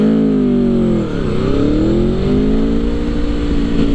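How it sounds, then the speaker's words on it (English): An Aprilia Tuono V4 Factory motorcycle pulls hard away from a traffic light, its engine a loud, close, rising roar that dips once at a gear change and then climbs again, with no talk. "we are definitely going to do a pull at this light"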